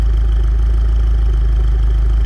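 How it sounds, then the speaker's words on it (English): Mini Cooper F21 with a John Cooper Works exhaust and catless downpipe idling, a loud steady deep exhaust drone with a pulsing low rumble, close by and alone. "And all it has is the John Cooper Works exhaust with the catless downpipe."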